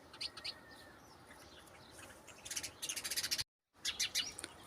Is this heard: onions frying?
no